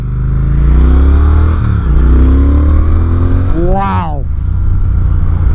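A 2020 Triumph Speed Twin motorcycle pulls away hard, its exhaust note climbing through gears in a loud, steady roar, with a rising whine near the end; a rider exclaims briefly over the engine.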